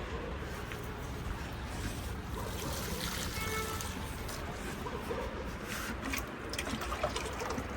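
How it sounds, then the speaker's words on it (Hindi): Water drains down from freshly watered plants on a balcony, a steady trickling, splashing stream that runs continuously at moderate level, with faint talk now and then. "ये सब नीचे जा रहा पानी।"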